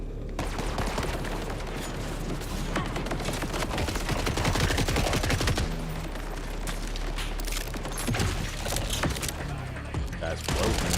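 Gunfire in the video game The Last of Us: dense, rapid bursts of shots and blasts pound without pause, mixed with booming impacts, and a voice may talk underneath.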